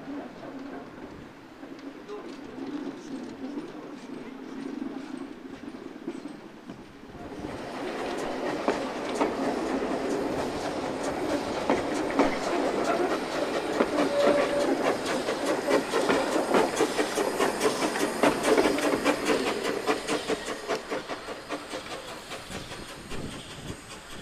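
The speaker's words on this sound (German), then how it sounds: "Als letzte Rangierbewegung umfährt der Hermann jetzt den Zug, um ihn anschließend zum Bahnsteig zurückzudrücken" A narrow-gauge railway locomotive shunts around its train toward the platform, first a low steady rumble, then louder hissing steam and rolling clatter of wheels on rail building and holding close by, with no voices.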